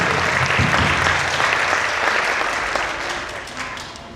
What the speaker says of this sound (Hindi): हम एक बार ताली बजा के यीशु मसीह को धन्यवाद दें।